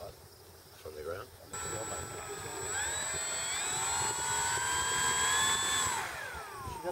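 A Stuka model airplane engine runs near and loud, its tone rising and holding steady as it revs up on the ground before takeoff. It sounds over a low, rough background.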